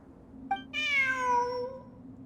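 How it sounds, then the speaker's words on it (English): A single clear, drawn-out cat meow sounds in Genshin Impact, preceded by a brief chirp, rising then falling in pitch over about a second, close and alone against a faint low hum. "Look, a cat."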